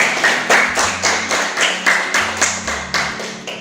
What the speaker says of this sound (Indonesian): Tepuk tangan buat Ananda Muhammad Ikhwan.